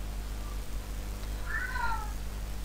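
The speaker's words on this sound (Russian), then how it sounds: "Кошка с ума сходит." A cat gives one drawn-out meow partway through, moderately faint above a steady low background hum.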